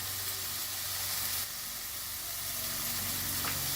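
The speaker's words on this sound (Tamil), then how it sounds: "இப்போ ஒரு காய்கறியாக எல்லா காய்கறியும் எல்லாம் மிக்ஸ் பண்ணிவிட்டணும்" Mixed vegetables (capsicum, carrot, potato, cauliflower) fry in a pressure cooker for street-style pav bhaji, giving a steady close sizzle with a hissing wash throughout and no voices.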